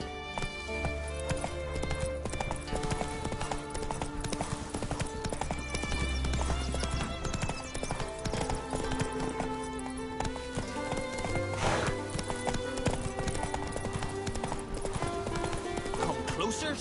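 A horse gallops with continuous clip-clop hooves and neighs in the Witcher 3 video game on PS5, with a constant dense game soundscape and music.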